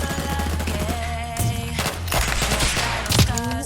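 Companions fire guns in a Fallout 4 fight, with continuous overlapping shots and bursts of automatic fire, loud and close, mixed with game music and effects.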